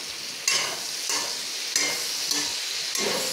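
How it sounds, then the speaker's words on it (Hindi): Potato and tomato curry sizzles in a pan as it is stirred, with a steady frying hiss broken by a few sharp scrapes of a spoon, close up and without speech. "और इसको मैंने अच्छे से चला लिया है"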